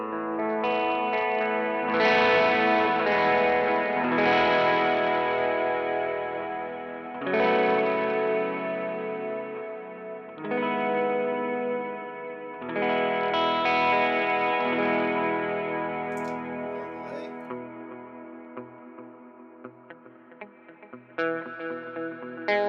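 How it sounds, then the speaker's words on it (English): Guitar played through an HX Stomp effects processor with distortion, chorus and heavy reverb: several sustained strummed chords ring out and swell in long washy tails, loud and alone with no talking. "And then a little reverb, actually a lot of reverb."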